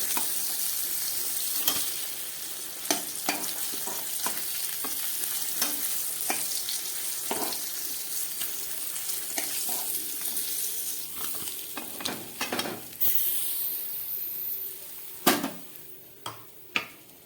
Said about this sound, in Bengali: মাছ ভাজাটা আমার একদম রেডি হয়ে গেছে। এবার আমি তুলে নিচ্ছি।